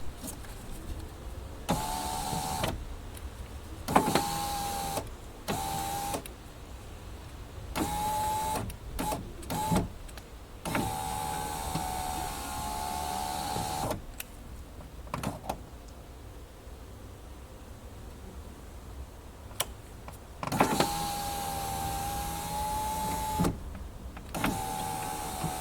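Electric front window regulator motor on a 1999–2007 Skoda Fabia Mk1 whining in repeated short runs with brief pauses, each burst a steady close-up drone as the glass travels up and down.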